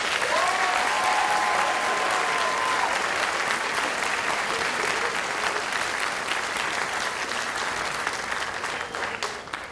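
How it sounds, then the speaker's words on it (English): A graduation audience at the 2019 Hanover Area ceremony applauds warmly, a dense and steady wash of clapping that carries on throughout and thins slightly at the very end. "Ladies and gentlemen, let's give them a warm round of applause."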